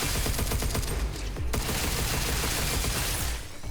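A dense, continuous barrage of weapon fire from the game Pragmata, loud and heavy with rapid repeated shots that hardly let up, easing slightly at the very end.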